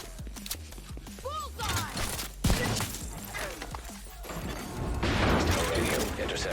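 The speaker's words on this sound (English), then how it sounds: "I hear gunfire." Gunfire in The Division 2 crackles in scattered bursts amid booms and clattering effects, fairly faint and mixed with other game sounds.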